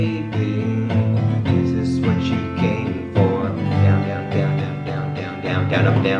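Acoustic guitar strummed close and loud, chords ringing in a steady pattern of mostly down strokes with occasional up strokes at chord changes, full and continuous with no talking over it.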